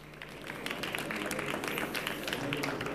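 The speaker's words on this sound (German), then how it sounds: "Ein kleiner Applaus bitte für unseren Sprecher." A live audience claps steadily for a speaker at a German talk event on the copyright reform, dense overlapping hand claps filling the room at an even, sustained level.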